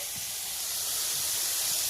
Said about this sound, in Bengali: কড়াই কিন্তু খুব গরম হয়ে গেছে মাছটা দিয়ে দিচ্ছি